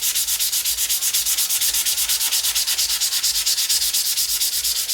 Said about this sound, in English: I'm going to sand quite a bit